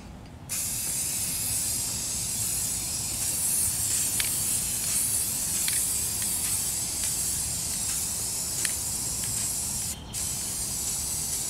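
Aerosol spray paint hisses steadily onto a model rocket for several seconds, a continuous close hiss with a brief pause near the end and no talk.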